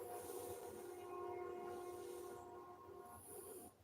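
An early-morning train rolls through about four blocks away, a continuous rumbling rail drone with sustained horn tones rising and fading over it, fairly loud despite the distance.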